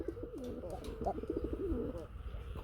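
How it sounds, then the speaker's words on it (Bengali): A gulla pigeon coos in a soft, repeated rolling call, fairly close, over a faint background murmur. "গুল্লা কবুতর সেটা ডাকবে না তা কি হয়?"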